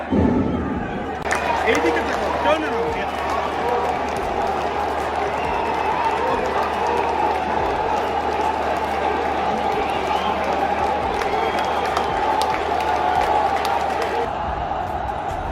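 Mohun Bagan football fans cheer in a packed stadium after the Kolkata derby, a dense, steady roar of crowd noise that swells in after a quiet start and carries on loud and unbroken to near the end.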